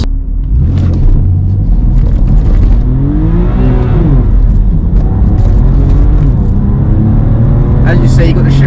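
A BMW M2 Competition with 405 bhp revs hard and climbs through the gears from inside the cabin, engine pitch rising and dropping at each shift over a loud constant rumble, with a voice talking over it.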